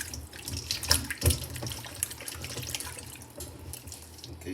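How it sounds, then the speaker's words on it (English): Potatoes are scrubbed under a running kitchen tap, with a steady close stream of water splashing into a sink and occasional knocks and louder splashes as they are handled. "Just use your potato as is, but just wash them properly"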